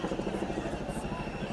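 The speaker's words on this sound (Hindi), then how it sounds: "अरे वो तो हेलीकॉप्टर का शॉट ले रहा है" Helicopter flying over a crowded street procession, its rotor thudding in a steady, fast rhythm with a low engine drone, fairly loud and constant, with faint crowd voices mixed in.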